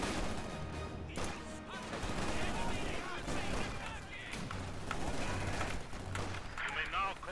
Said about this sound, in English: we got mortar fire coming down